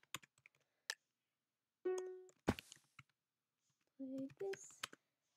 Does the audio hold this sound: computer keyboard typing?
yes